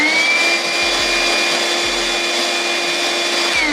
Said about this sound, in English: Let's just use it as a wet vac only.